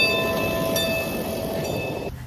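A Union Pacific train rolls along the track with a steady, close, rumbling roar and faint high metallic tones, running unbroken for about two seconds before cutting off abruptly.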